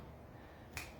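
A single crisp finger snap rings out once in an otherwise quiet room during a rhythm and movement exercise.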